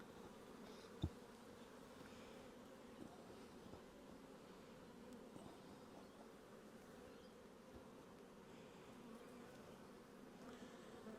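Honey bees hum and buzz around a hive frame in spring, a faint, steady drone with bees flying close by and one brief sharp knock near the start.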